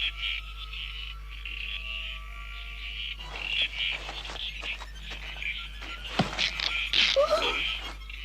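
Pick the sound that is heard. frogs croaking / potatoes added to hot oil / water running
frogs croaking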